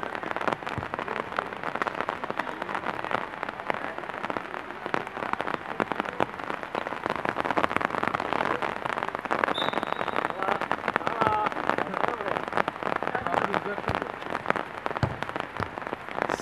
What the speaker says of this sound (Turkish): Yağmur çok şiddetlendi sayın seyirciler.